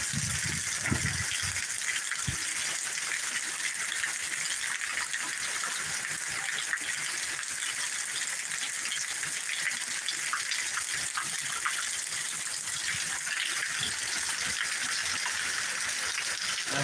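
Heavy rain pours steadily throughout during a tornado warning in Birmingham, Alabama, a dense, loud hiss of water like a gushing torrent, with no talking.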